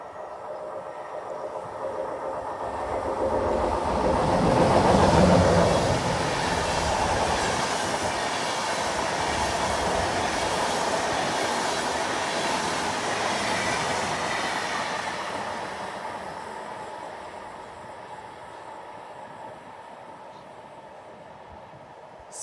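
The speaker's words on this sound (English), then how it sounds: "an old intercity led by a BR-101 that you probably will not see after 2025" Old intercity train hauled by a DB BR-101 electric locomotive passing trackside in Ashausen, a broad roar swelling to a peak then a long steady rush of carriages fading out.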